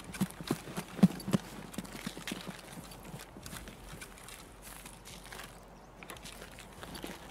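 Footsteps of a character running in Escape from Tarkov, a quick, uneven patter of near-to-mid-distance steps over a busy game ambience, stronger in the first second and then fading into a steady background.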